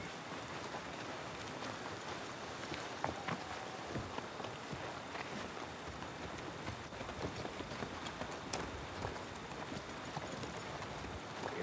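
Soft, steady clip-clop of horse hooves outdoors, a faint continuous patter of steps under a hissy background with no talking.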